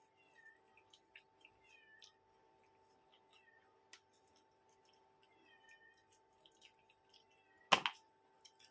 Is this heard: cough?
no